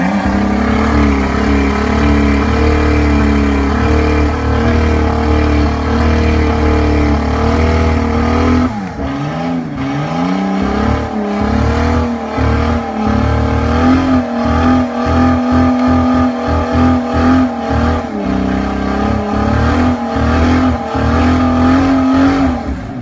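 A Nissan R32 GTST doing a burnout: a loud sustained engine roar, then a run of sharp repeated revs with pitch swoops and tire noise over about twenty seconds.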